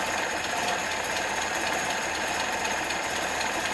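A 1977 Toyota Celica engine runs steadily with a dense, constant mechanical roar and faint rapid ticking, heard up close with no talking and no change in pace.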